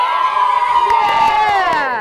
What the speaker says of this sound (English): Let's say cheer as loud as you can if you are excited to see our trout eggs today